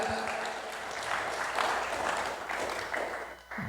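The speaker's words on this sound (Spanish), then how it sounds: "Fuertes aplausos, voy con Mestol y Hichkular." Applause from a gathered congregation at a Catholic preaching event, a dense, sustained wash of clapping hands that keeps going at fairly steady loudness and fades slightly near the end, with no clear speech over it.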